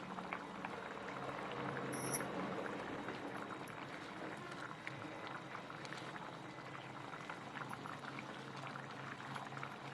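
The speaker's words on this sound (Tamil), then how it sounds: "நல்லா குழம்பு சலசலன்னு கொதிக்க ஆரம்பிச்சிச்சு." A pot of pakoda kurma curry bubbles and simmers softly and steadily, with faint popping and gurgling throughout, quiet and close.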